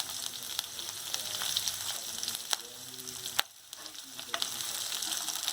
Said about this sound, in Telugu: వెల్లుల్లి ఇప్పుడు మిర్చి కూడా వేసేస్తాం.